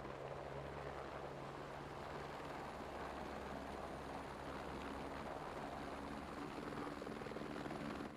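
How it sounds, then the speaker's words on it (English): A Marine helicopter in the video game Squad makes a faint, steady rotor drone, thrumming continuously in the distance with no voices. "We've got that Marine heli over here to the east side."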